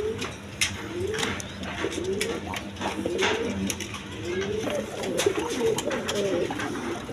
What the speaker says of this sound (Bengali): স্প্যানিশ গড়গড়ি বর্ডার একদম কোয়ালিটি সম্পন্ন কবুতর